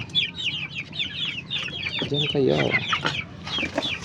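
Several chickens cluck and chatter in quick overlapping bursts, with a deeper, drawn-out call from one bird near the middle; the chickens are penned in rainy weather.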